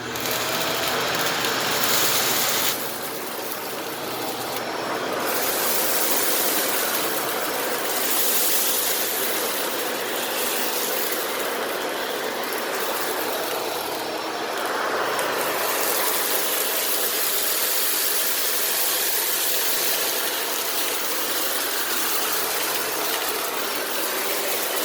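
Shark Rotator Powered Lift-Away NV750W vacuum on its high carpet setting, sucking up laundry beads from carpet. A loud, continuous motor roar runs throughout, with a gritty rattle of beads being pulled in that swells and fades.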